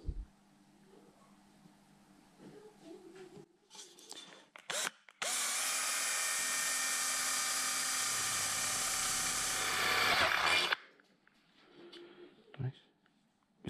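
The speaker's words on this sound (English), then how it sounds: "Nice sharp drill." A sharp power drill bores a run of pilot holes in a Royal Enfield Meteor 350 bobber project part, one loud sustained whine lasting several seconds, with brief shorter bursts and workshop handling before and after; a voice talks briefly nearby.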